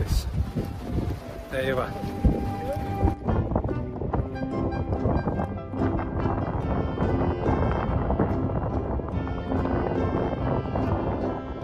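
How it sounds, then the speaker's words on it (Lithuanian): Strong, gusty wind blows outdoors at Malbork Castle in Poland on a cool day, making a continuous low roar and buffeting the microphone, with people talking and passing nearby. "Vėjas, oras nekoks, gana vėsų, vėjas pučia."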